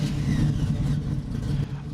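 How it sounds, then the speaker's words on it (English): A deep V8 car engine in a video game rumbles and revs loudly and steadily, a throaty growl with no talk over it. "Oh, what a raw V8 engine this is."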